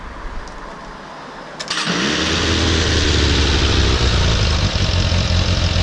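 A Suzuki Bandit 600 motorcycle with four carburetors being synchronized cranks briefly, catches, and settles into a loud, steady, close idle with a slightly uneven beat.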